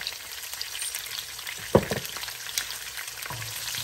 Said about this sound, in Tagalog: Yan, gisa lang natin.